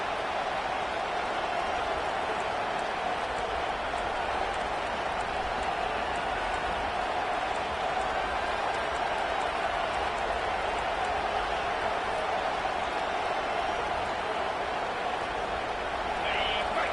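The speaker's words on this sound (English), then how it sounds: "Listen to this crowd just shaking the girders of this place trying to help their defense" A stadium crowd roars at a college football game in NCAA 25, a steady, dense wash of cheering that holds at an even level throughout with no breaks.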